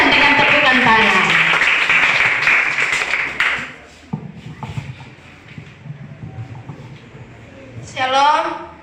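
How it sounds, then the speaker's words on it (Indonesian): A group claps together for a few seconds, then the clapping fades into quiet shuffling before a voice speaks. "Kita sambut kelompok hujan dengan tepukan tangan."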